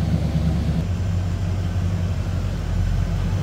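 A 1976 Chevrolet Malibu Classic V8 idles low and close, a steady deep rumble with an even throb and no voices.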